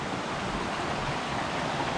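A stream runs beside riverside homestays in Mae Lai Village, Chiang Mai, a steady broadband rush of flowing water, close and continuous with no voices.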